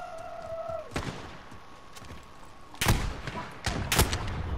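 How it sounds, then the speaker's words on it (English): Shotgun blasts in the first-person shooter Modern Warfare, a few loud, broadband bursts spaced irregularly, closest and heaviest near the end, over faint background game noise. "I'm rushing middle with the shotgun."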